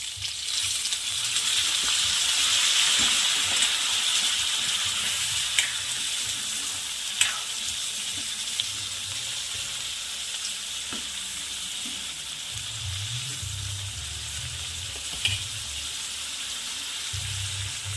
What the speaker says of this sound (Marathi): आता मी पाणी ॲड करते पाणी खूप जास्त नाही टाकायचं आहे